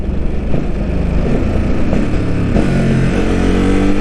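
A supersport motorcycle engine loping at very low RPM while downshifting with the throttle closed, a steady loud rumble close to the rider with wind rush and no talk.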